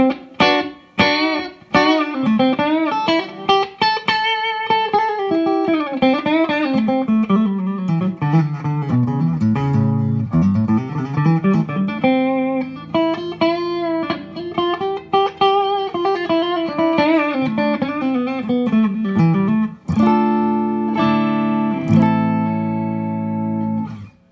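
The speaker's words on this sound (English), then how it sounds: "The reverb is not a super strong reverb" An electric guitar plays a melodic line through a Tubeworks TD-752 amplifier with a light spring reverb, notes lingering briefly, ending on a few sustained chords.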